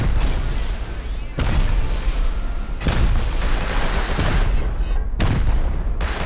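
Rapid gunfire in the survival game Rust, firing from behind the player in loud, sustained bursts split by short gaps, the shots dense and close.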